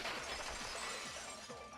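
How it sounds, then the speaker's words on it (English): Glass shattering from the Danganronpa 2 video game, a window breaking into a loud, continuous crash of falling shards that fills the whole stretch with no voices over it. "Heard the sound of the window shatter"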